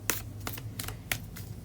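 Tarot cards being shuffled in a few brief, crisp riffled bursts spaced across a quiet room, with a low steady hum underneath and no talking.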